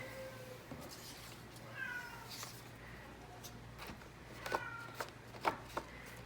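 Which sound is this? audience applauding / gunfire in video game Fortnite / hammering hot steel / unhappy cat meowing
unhappy cat meowing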